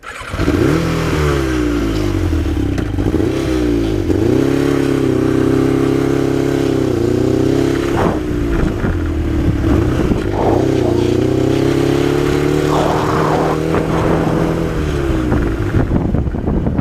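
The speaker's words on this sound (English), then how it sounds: "Bike's still warming up." A customised Yamaha XJ600S motorcycle engine idles close by while still cold and warming up, a steady loud rumble broken by a few brief blips in revs.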